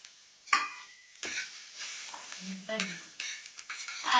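Onion frying in oil in a pan for homemade tomato chutney is stirred with a spoon, giving faint scraping clinks and a soft sizzle, with a voice talking over it.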